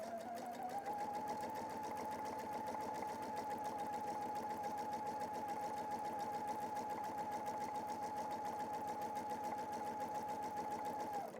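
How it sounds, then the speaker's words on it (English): A PFAFF sewing machine stitches pintucks around a round piece with a steady, even motor whir and rapid needle clatter, running on without a break at a low, close level. "So I'm going to stitch around so that I come back up to our join again"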